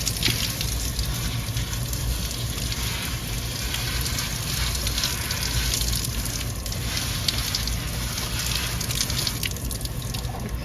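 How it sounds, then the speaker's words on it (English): Tap water runs steadily and loudly close by while hair is washed under it, a continuous splashing rush with small drips and no talking. "It says gently, so I'm going to open the water."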